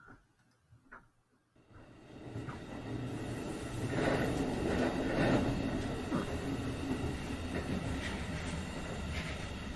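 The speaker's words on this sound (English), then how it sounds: "The express subway train was passing stations one after the other as usual" An express subway train rushes through a tunnel past stations, a steady loud rumble with faint rhythmic clicks rising after a quiet start, with no talking.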